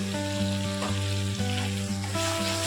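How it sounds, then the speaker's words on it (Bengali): Ground spices including turmeric, cumin and salt fry in oil for a Bengali katla fish kalia, giving a close, steady sizzle over a sustained tonal hum, with no talking. "এটাও আমি খুব ভালো করে কষিয়ে নেব যতক্ষণ না অবধি তেল ছাড়ছে।"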